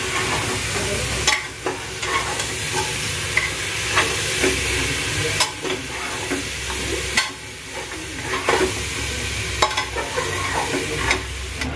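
Vegetables stir-fried in a hot pan for a Bengali home-style curry, a steady close sizzle broken by repeated scraping and stirring strokes of the spatula, with no talking.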